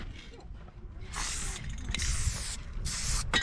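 Bursts of aerosol spray paint hiss close by in several short and longer blasts onto the cars at Cadillac Ranch on Route 66 in Amarillo, Texas, with a low background rumble between them.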